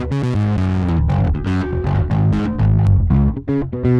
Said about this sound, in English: These 3 pedal types are inspired by distortion pedals with their own distinct sonic characteristics.